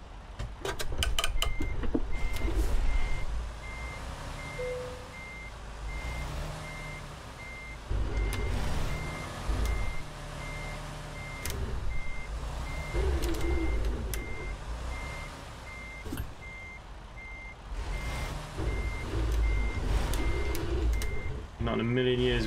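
A Freightliner Cascadia truck in American Truck Simulator reverses a trailer into a parking spot, its steady reversing beeps repeating over engine rumble and air-brake hisses, with someone talking throughout.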